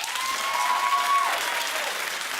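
Studio audience on a daytime TV talk show applauds loudly and steadily, with a whoop or whistle rising over the clapping early on.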